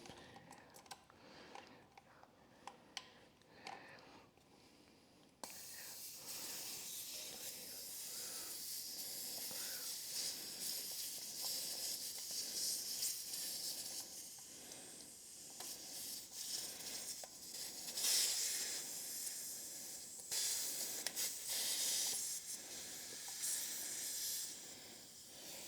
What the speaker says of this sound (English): So we'll take the valve out now